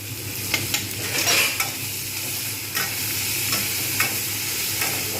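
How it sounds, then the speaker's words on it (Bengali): Ginger garlic paste frying and sizzling in a pan for a mixed lentil dal, stirred with a spoon that scrapes and clinks against the metal in brief bursts over a steady close hiss. "একটু ভালো করে নাড়বো"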